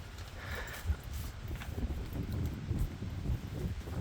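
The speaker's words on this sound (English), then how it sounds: "But it is windy." Steady wind buffets the microphone aboard a MacGregor 26M sailboat on the water, with a low, rumbling roar and gusty surges, loud and continuous throughout.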